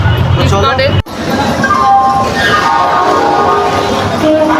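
The Howrah–Haldia Express local train rumbles loudly along the track with a steady roar and drawn-out tonal horn-like notes, while crowd babble fills the carriage around it.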